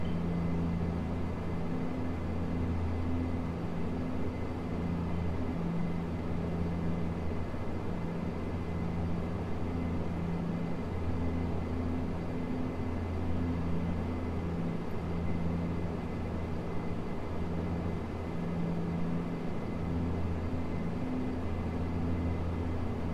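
Twin turboprop engines of a Q400 airliner in a flight simulator hold a loud, continuous droning rumble with steady tonal hum throughout after the throttle is advanced.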